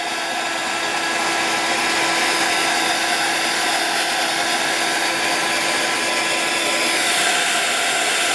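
Steady, loud broadband whoosh of a handheld dryer blowing continuously over an MDF butterfly craft piece during mixed media work, running unbroken throughout with no talk.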